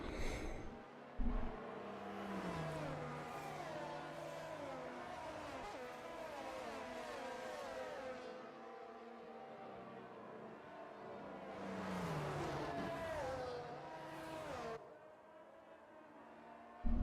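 Race car engines from an F1 video game during a safety car period at Japan, several cars droning and revving in overlapping high-pitched whines, rising and falling as they pass, steady and moderately loud with no talking.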